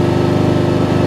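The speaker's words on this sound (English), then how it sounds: "And rev it back up one more time." Craftsman riding lawn mower engine running loud and close at high revs with a steady, even drone, just after a carburetor adjustment and spark plug cleaning.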